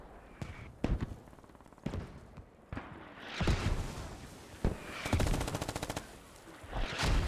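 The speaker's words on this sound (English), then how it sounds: "Sad Coat posted up with his machine gun" Machine gun fire rattles in Squad during a desert siege infantry battle, with several sharp bursts and single shots, some close and loud, others more distant, over a constant battlefield rumble.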